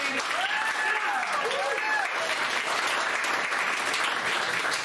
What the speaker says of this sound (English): Round of applause for my mom, you guys